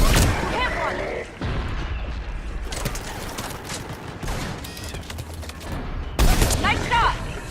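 Mass Effect 3 combat gunfire: dense, continuous shooting and booms from a game battle, with characters' voices calling out over the noise.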